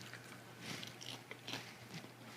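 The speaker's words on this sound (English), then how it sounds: "while I'm chomping on this popcorn" Crunchy air-popped microwave popcorn, oil-free, being chewed close to the mic: several irregular crisp bites and crunches in quick succession, fairly quiet with no talking.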